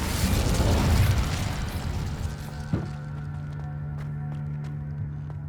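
An Incendio fire spell blast in the Hogwarts Legacy video game, a loud whooshing fiery burst that fades over about two seconds into a steady low hum with a few faint clicks.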